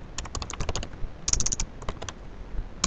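A website name typed on a computer keyboard: a quick run of close, crisp keystrokes, a brief pause, then another rapid burst and a few scattered final taps, with no talking.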